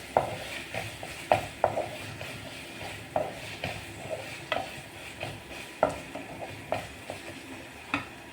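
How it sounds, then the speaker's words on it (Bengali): Spice masala for rajma is stirred in a pan, a spoon scraping and knocking the metal in irregular strokes over a soft simmering sizzle, close and without talk. "সাথে মশলাটাও একটু নেড়ে দিই, নাহলে নিচে"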